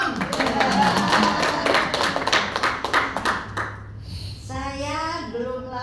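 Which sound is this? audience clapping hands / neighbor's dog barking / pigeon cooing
audience clapping hands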